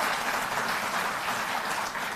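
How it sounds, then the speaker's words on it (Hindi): A dense, steady burst of audience clapping at a Delhi government event, continuous and even with no voices over it. "तो एक बार जोरदार ताली।"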